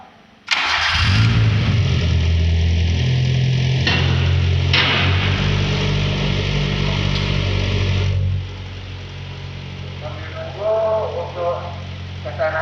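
A car engine mounted on an engine stand cranks and catches with a sharp burst, then runs at a steady, loud drone for several seconds. It drops to a lower idle while faint voices talk in the background.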